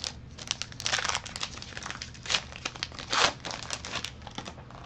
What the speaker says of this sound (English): Shuffle through these.